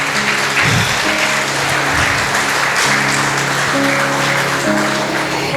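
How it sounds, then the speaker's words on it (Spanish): A congregation applauds during a church service, loud dense clapping that runs continuously throughout, with music and a held tone audible underneath. "regálele un aplauso al Señor"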